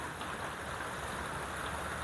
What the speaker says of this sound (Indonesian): hujan rintik-rintik